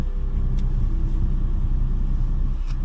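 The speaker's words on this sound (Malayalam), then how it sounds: "ഇവിടെയാണ് നമ്മൾ വണ്ടി പാർക്ക് ചെയ്യുന്നത്" A car's engine rumbles steadily up close while it is parked near Malankara dam, a low continuous drone with no pauses.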